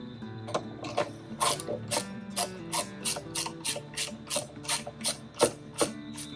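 A hand ratchet tightens transmission bolts on a 2020-2022 Shelby GT500's Tremec TR-9070, giving close, crisp rhythmic clicks in quick steady bursts, with no voices.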